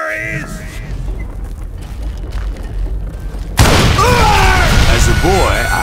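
A gunpowder and dynamite blast in the Western video game Call of Juarez Gunslinger: a deep rumbling boom, followed by a loud burst of chaotic action sound as voices shout over it.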